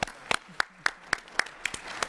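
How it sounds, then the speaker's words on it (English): A few committee members clap sparsely in a meeting room to welcome first-timers, roughly eight separate sharp claps spaced irregularly, fairly quiet with no talk over them. "those whose hands are down, give them a clap"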